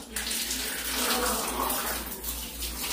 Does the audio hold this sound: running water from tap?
yes